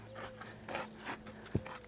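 Horse hooves clip-clop faintly on the ground as the mare is led at a trot in a training lesson, a few soft, unevenly spaced footfalls with one sharper strike near the end.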